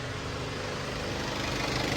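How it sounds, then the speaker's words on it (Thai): A car engine idles smoothly under an open hood, a steady, even hum and low rumble with no knocking, close and constant throughout. "เครื่องยนต์เดินเรียบนะครับไม่เขง"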